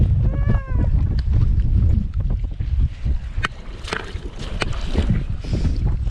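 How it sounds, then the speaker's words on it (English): Wind buffets the microphone on a hill walk up Winter Hill in late January, giving a loud, uneven low roar with gusts that swell and ease, plus a brief whining tone near the start. "It's a bit windy."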